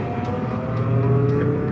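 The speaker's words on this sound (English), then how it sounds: "That was a Dodge Challenger 6-cylinder getting on it." A Dodge Challenger with a 6-cylinder engine revs hard as it accelerates, a loud, close, sustained engine growl filling the whole short moment.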